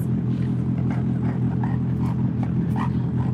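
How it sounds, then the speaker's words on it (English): A dog barks repeatedly in the background over a loud, steady low rumble, the barks muffled and somewhat distant. "Who's barking in the background?"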